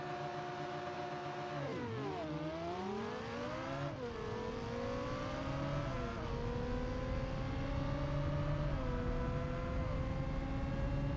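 Twin-turbo Liberty Walk Lamborghini in the BeamNG driving game revs hard through its gears, a loud, steady engine roar with rising pitch sweeps and shift dips, up close and with no talking.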